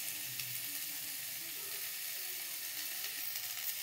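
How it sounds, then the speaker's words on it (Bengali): Potatoes fry in hot oil, giving a faint, steady hiss and sizzle with no voices. "দেখো আলুটা লাল লাল করে ভাজা হয়ে গেছে।"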